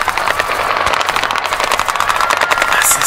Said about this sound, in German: Hier wird geschossen.